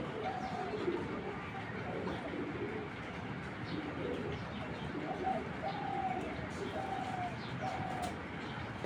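A racing pigeon coos in several short rolling calls toward the end, fairly faint against steady background noise, with no talk.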